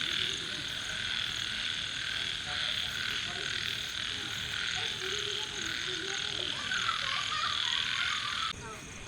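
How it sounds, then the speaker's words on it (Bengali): A dense chorus of countless frogs croaking at night in the countryside around Ghatshila, a loud, unbroken wall of calls mixed with insect trills that cuts off abruptly near the end. "একসাথে যদি একশো হাজার ব্যাঙ ডাকে যেরম হবে না সেই জায়গাটার ওরকমই ব্যাপার ছিল"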